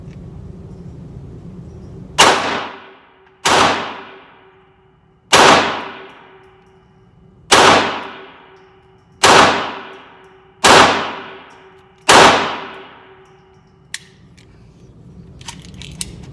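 Seven sharp gunshots from a Taurus TX22 .22 pistol at a shooting range, fired singly at uneven intervals of about one to two seconds, each a loud crack with a brief ringing decay, followed by faint clicks.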